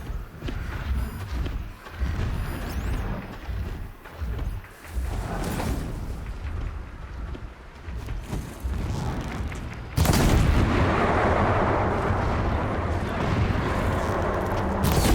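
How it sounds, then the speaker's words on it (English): Distant explosions in the video game Horizon Zero Dawn, heard as muffled booms and rumbling gunfire-like bursts under steady game ambience, swelling into a louder, continuous roar in the second half. "Explosions in the distance."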